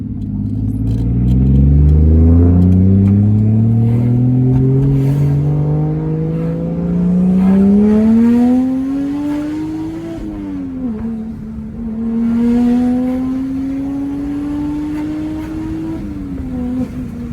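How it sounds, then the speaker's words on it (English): A Toyota Chaser JZX100 with a GTE engine swap drives close by, its engine note climbing steadily through a long pull, easing, then rising again in a loud, smooth drone. "Let's just keep driving, and we shall see how it fares."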